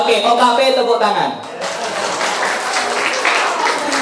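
Audience at a training seminar in Lampung Tengah breaks into broad, steady applause that swells after a brief stretch of voice and lasts several seconds, filling the room evenly.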